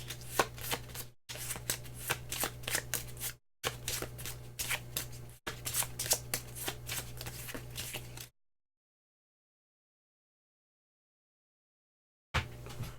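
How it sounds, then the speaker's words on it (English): Cards from a Concordia board game deck being shuffled, riffled in several quick bursts of crisp flutter with short breaks between, then a long silence before a brief final burst. No talking. "So that needs to be shuffled into the deck."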